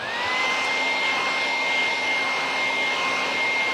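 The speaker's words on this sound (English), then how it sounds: "Put this with the dryer." A handheld electric hair dryer blows steadily and close up on a stencil craft board, a continuous whirring rush with a faint tonal whine running throughout.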